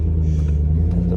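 Chrysler 300C SRT Hemi V8 rumbling loud and close on a cold start, a deep steady idle with slight throb and no talking.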